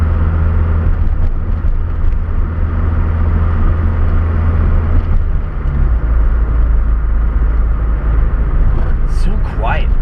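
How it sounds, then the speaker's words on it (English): A Ford Festiva car engine runs quietly, giving a steady, low, even hum throughout with no revving. A voice can be heard over it. "This is the quietest car I own."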